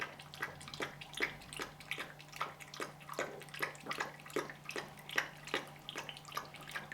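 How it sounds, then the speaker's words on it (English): Water from a shower running over a puppy during a warm bath, a steady splashing stream with regular rhythmic spattering bursts, close and fairly quiet. "We're going to give her a little shower now."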